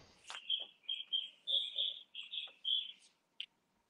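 Repeated high, bright chirps of small birds in quick bursts, fairly faint and somewhat distant, with no talk.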